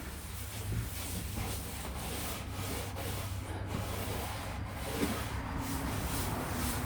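Steady continuous rubbing of a finish coat into a wooden table, an even scratchy friction sound close by without distinct strokes, under a low background hum.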